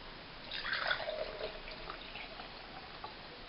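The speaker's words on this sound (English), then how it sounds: "what I'm going to do now is strain it again" Soaked herbs in a water and clay solution being strained, giving a soft trickle and patter of dripping liquid, faint and close, with no talking.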